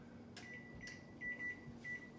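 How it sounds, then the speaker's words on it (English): Kitchen timer being set while making vegan yogurt, giving a few short high beeps over a low steady hum, with no talking. "Let me set our timer here."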